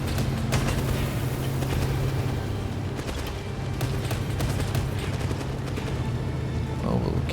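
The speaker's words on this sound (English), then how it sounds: "I think we mostly just shoot to clear space and continue to chase." Sustained gunfire during a chase in 007 First Light, repeated sharp shots and bursts over a constant rumbling engine drone, loud and continuous, with someone talking over it.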